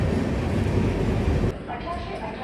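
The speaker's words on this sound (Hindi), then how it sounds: "यहाँ से भी इस ट्रेन को प्रायोरिटी मिली है, ये निकल रही है" An express train running through Ballarshah station, a loud dense rumbling roar close by that abruptly drops to a quieter rolling rumble with faint tonal whine.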